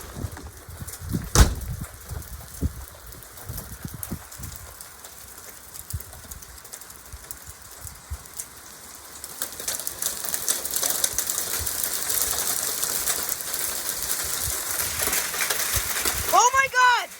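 Hail and rain falling during a severe storm in northeastern Wisconsin, a faint scattered pattering that builds into a denser, louder downpour in the second half, with people's voices and exclamations heard over it.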